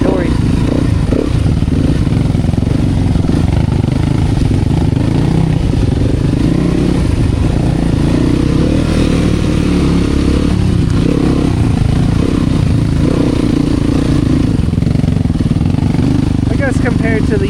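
A fuel-injected enduro motorcycle runs on a trail with a steady, loud engine drone and rough throttle changes throughout, close to the microphone.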